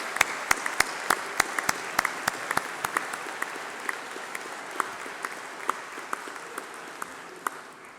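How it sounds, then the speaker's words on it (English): Applause at a university graduation ceremony for course reps and student leaders standing up: scattered, distinct claps ring out over a soft crowd wash, thinning gradually as it goes on. "please stand up while we give you a round of applause"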